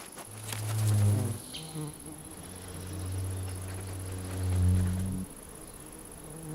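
An ivy bee buzzes around ivy flowers, its droning hum rising and falling as it moves close, then drifts off, then returns, continuous for about five seconds.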